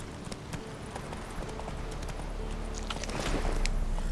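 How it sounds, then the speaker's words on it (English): Horse hooves clip-clop steadily at a walking pace in The Witcher 3 video game on PS4 Pro, with a low ambient rumble underneath that grows louder toward the end. "Go on and get on your horse, Geralt."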